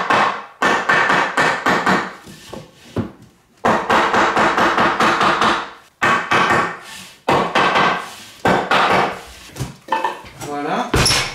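Drywall finishing trim being tapped into place, with repeated sharp knocks in irregular bursts close by, loud with brief pauses between groups of hits.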